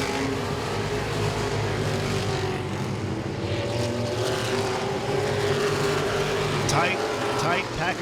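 A tight pack of modified race cars roars around Langley Speedway, a dense engine drone heard from a distance that swells and shifts as they pass, with a commentator's voice running over it.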